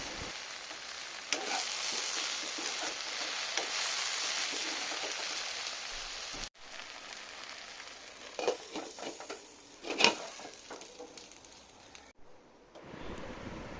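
Okra and peanuts for a bindi masala cooking in a covered pan over a low flame, a soft continuous sizzle and hiss with a break partway, then quieter crackles and a few lid or utensil knocks.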